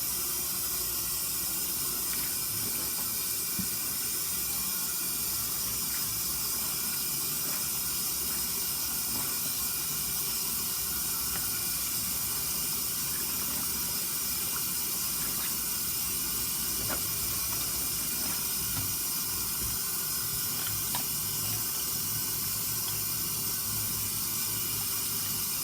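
Hot water from a tap running steadily into a sink set up for hand washing a blanket and clothes, a continuous hiss and splash at low level throughout, with no talk.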